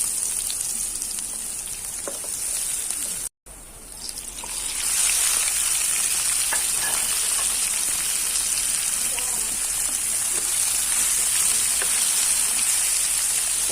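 Kachki fish curry sizzles in hot oil with onion and garlic, a steady loud hiss that swells after a brief break, with no talk over it.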